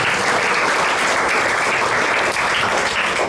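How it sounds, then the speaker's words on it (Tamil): A congregation at a praise and worship gathering breaks into loud, sustained applause, a thick wash of many hands clapping at once. "இவருக்கு ஒரு கைத்தட்டல்."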